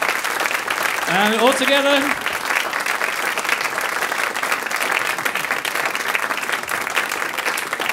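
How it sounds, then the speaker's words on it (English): An audience at a climate hope concert in the CitySpace venue applauds loudly and continuously. A voice briefly speaks over the clapping early on, and the applause then carries on steadily to the end. "Round of applause for them."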